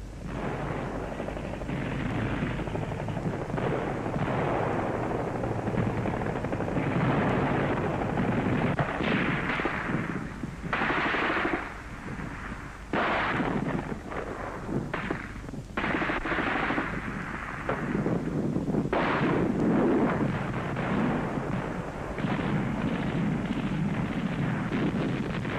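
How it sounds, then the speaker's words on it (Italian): Continuous battle noise with bursts of machine-gun fire and heavier booming anti-tank gun shots over a constant rumble, loud and dense throughout, during the Tunisia campaign. "Mitragliatrici e cannoni controcarro appoggiano l'azione."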